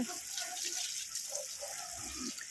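Tap water runs steadily while a car is washed at home, a continuous close splashing hiss with faint bumps and no voices.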